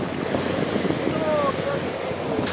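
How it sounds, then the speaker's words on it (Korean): Sea waves wash against coastal rocks at a seaside rock-fishing spot, a continuous rushing surge mixed with wind buffeting close to the microphone. "어휴, 파도 다 졌네."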